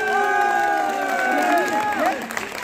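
A crowd cheers and applauds for a singer at an Uttarakhandi music event in Delhi. Steady, dense crowd noise runs throughout, with sustained tonal sounds like music or singing over it.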